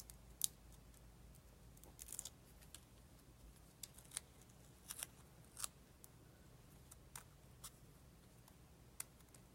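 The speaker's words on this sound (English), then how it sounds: "Yes, left-handed scissors are a thing." Left-handed scissors snip through paper during card-making, with sparse, quiet, sharp clicks and cuts at irregular intervals over a low steady background hum.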